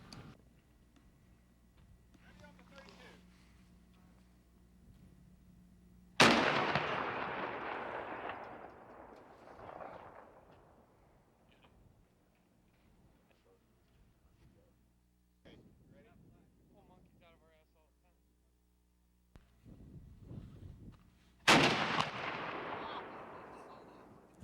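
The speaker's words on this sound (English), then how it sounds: "Fire team, commence firing at will." Muzzle-loading cannons, trailer-mounted, fire at plywood targets during a live fire exhibit at the Erie Maritime Museum, two loud sharp booms several seconds apart with long rumbling decay, quieter clanks and handling sounds between them.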